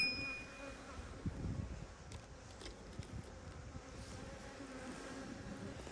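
Honey bees buzz around a spring hive, a steady soft drone with individual insects passing close in brief louder swells, continuing throughout without talk.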